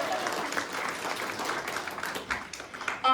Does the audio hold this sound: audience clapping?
yes